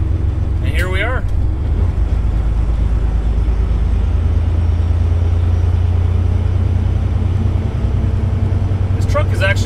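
Steady low rumble of a freshly rebuilt truck engine running smoothly in the cab, a constant drone throughout with brief higher chirps near the start and end.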